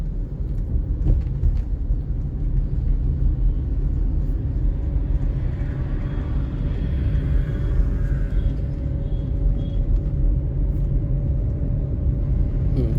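A car engine working hard while accelerating uphill during a driving lesson, a loud, steady low rumble that drones on without a break from inside the cabin.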